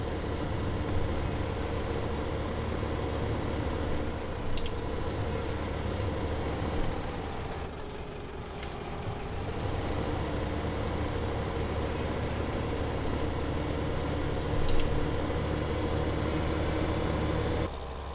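Tractor engine hitched to a bale trailer in the Farming Simulator 2015 game, a steady low idling drone that runs unbroken throughout with slight swells, fairly faint and with no talk.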